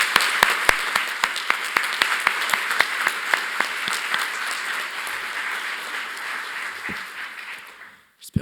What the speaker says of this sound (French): merci de faire un tonnerre d'applaudissements pour Hugo O'Haraud